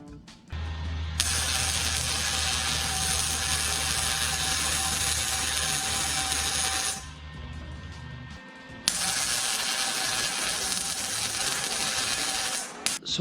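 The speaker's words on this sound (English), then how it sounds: "It'll bolt right up to the existing bracket on there" A ratchet bolts an exhaust hanger to an existing bracket on a dirt bike exhaust, with long runs of fast, loud, close clicking, a short pause, then another long run.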